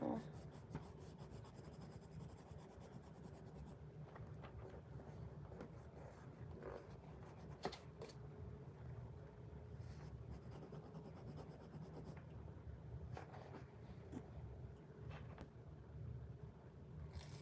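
Colored pencil scratches steadily across paper, a continuous close but quiet rubbing with small irregular strokes and no talking.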